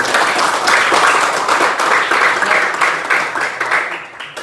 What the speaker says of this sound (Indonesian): Tepuk tangan dulu untuk kita sendiri.